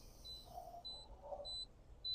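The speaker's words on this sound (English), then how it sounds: "now we're getting the beep to close the top swivel here" A series of short, high electronic beeps from a Big Joe Konnected grill controller repeats at a steady pace, faint and thin against a quiet room background.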